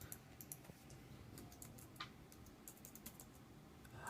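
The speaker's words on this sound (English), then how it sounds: "Sorry, I'm typing a chat." Close, quiet typing on a computer keyboard, with rapid irregular key clicks running in short bursts from start to end while a chat message is entered.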